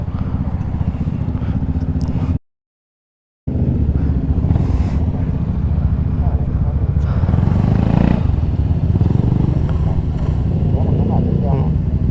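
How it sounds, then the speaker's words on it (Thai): A motorcycle with a new exhaust rumbles with a deep, throbbing note throughout, broken by a brief moment of silence, with some background noise. "ท่อใหม่อะเสียงมันบูมบูมบูมบูมเลย"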